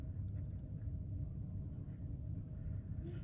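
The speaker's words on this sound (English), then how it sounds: "it's very windy too" Steady low wind rumble and buffeting from a winter storm at -18 °C in Ontario, continuous and fairly faint, with no voices.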